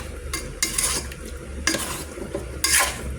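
Chicken sautés with other ingredients in a pan, a steady sizzle broken by repeated bursts of stirring and utensil scraping against the pan, close and fairly loud with no talking.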